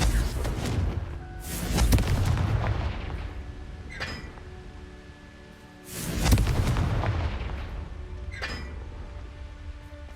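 Confringo explosive spell blasts in the video game Hogwarts Legacy, two deep booming explosions a few seconds apart, each with a rumbling tail over game ambience.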